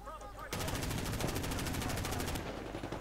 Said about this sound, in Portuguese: Começa a curtir os tiros.